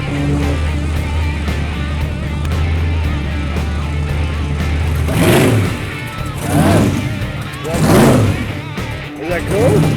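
A custom-built car's engine runs at a rumbling idle in a workshop, then revs hard in three or four rising bursts, loud and close, with people talking over it.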